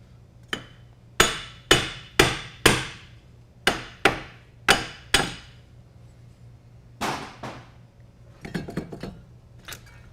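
Hammer blows knocking a wheel hub unit off a 2004 Pontiac Montana: a rapid series of sharp, loud metallic strikes close by, about ten in rhythm, then a pause and a cluster of lighter clanks.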